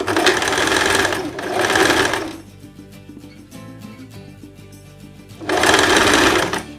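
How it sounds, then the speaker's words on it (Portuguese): Sewing machine stitching the facing of a blouse, heard close as two loud steady runs of stitching, then a pause with small mechanical clicks, then another run, with no talking. "E vou costurar agora essa parte do revel."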